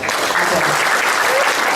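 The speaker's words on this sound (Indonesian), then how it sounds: "Tepuk tangan untuk." Audience applause at a government meeting for neighbourhood and community leaders in Cilacap, a dense continuous clatter of many hands clapping at close range, steady for the whole short stretch.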